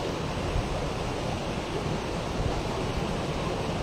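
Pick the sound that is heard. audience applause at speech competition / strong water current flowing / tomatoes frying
strong water current flowing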